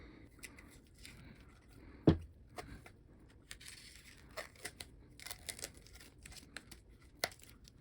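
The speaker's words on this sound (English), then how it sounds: "And we'll peel off that black tape." Black tape peeled from the handle of a softball bat, heard as quiet scattered tearing and crinkling bursts, with one sharper rip near the start and soft irregular ticks and scrapes after it.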